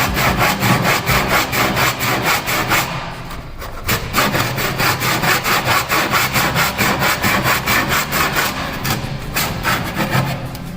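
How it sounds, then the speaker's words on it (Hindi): Black & Decker tenon saw with dulled teeth cutting through wood, steady rhythmic back-and-forth strokes close up, briefly pausing around the middle, loud throughout with no voices. "अब आपने देखा कि ये आरी कटिंग करते टाइम लकड़ में फंस रही थी"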